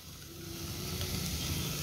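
Mixed vegetables with white pumpkin and finely chopped spinach sautéing with salt, a soft continuous close sizzle and hiss that swells slightly, with no voices.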